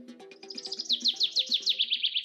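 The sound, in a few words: birds chirping in Colombia's coffee region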